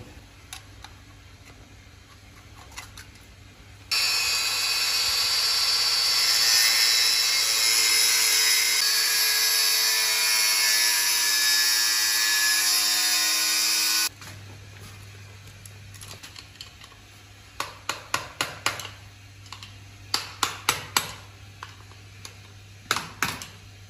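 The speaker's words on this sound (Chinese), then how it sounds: "就用角磨机给它开个槽，然后拿螺丝刀拧。" An angle grinder cuts a slot into a fastener during a clothes-rack installation at a rural self-built house, a loud, steady high-pitched whine lasting about ten seconds, followed by scattered clicks and taps.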